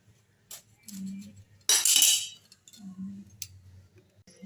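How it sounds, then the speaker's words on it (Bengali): Knife cutting a cauliflower into small florets: several short crisp cuts and clinks close by, with one louder, longer crunching snap in the middle and no talk. "ফুলকপি থেকে আমি ছোট ছোট এই ফুলগুলোকে কেটে নিচ্ছি"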